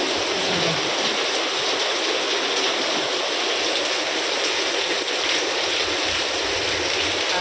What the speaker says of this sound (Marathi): रात्रीपासून पाऊस पडते